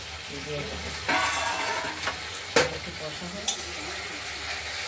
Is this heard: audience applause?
no